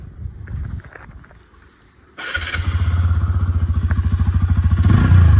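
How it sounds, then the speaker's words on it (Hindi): A 2025 TVS Apache RTR 160 2V motorcycle engine starts with a sudden roar and settles into a loud, throbbing idle, its exhaust pulsing rapidly and steadily up close. "ये इसकी एग्जॉस्ट साउंड हो गई।"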